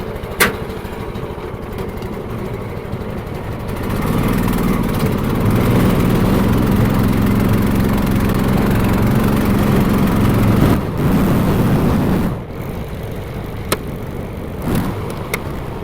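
Small tracked dumper weighing about 1,300 pounds, its engine running steadily and loudly close by for several seconds before dropping back to a quieter idle, with a few sharp knocks at the end.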